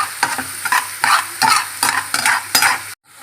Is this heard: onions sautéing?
yes